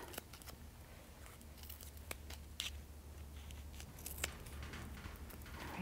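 Scissors cutting a small piece of card in half, a few quiet crisp snips and rustles spread over several seconds, close and faint against a low background hum.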